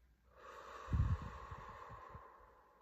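One slow, deep breath is drawn in and let out in a quiet, calm setting, a soft airy rush close to the microphone with a breathy swell in the middle and no talking.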